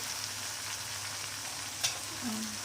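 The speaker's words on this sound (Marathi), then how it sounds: "या पद्धतीने परतून घ्यायचं" Spices sautéing in oil in a pan for black chana masala, a steady soft sizzle with a brief sharper crackle midway, close and alone with no talk.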